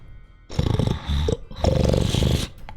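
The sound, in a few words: person imitating snoring behind a door in D&D game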